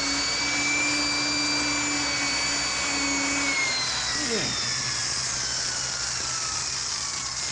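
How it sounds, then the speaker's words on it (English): A drill grinds steadily into a safe's time lock, a loud continuous whine with a tone that shifts and dips partway through, dominating a dramatized scene. "Hit that time lock the first time you drill."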